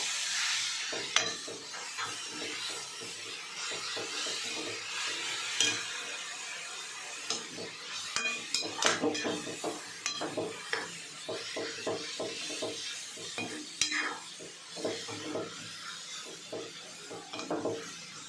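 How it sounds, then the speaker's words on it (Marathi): A spoon stirs and scrapes vegetable curry in a pan, the title's kasha bhaji, just after chilli powder is fried, with a low sizzle underneath; repeated close rubbing and clacking strokes continue steadily with no talk. "त्याच्यात आपण आता ही भाजी टाकून देऊ. सगळं मिक्स करून घेऊ आपण."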